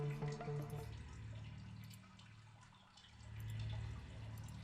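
Water flowing and dripping inside a cave in the game Sisyphus Reborn, a soft continuous trickle with faint drips, quiet and steady throughout.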